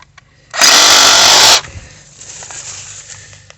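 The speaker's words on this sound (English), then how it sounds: "sawzall." Reciprocating saw cutting through saplings: one loud, close burst of harsh buzzing lasting about a second, then quiet rustling outdoors.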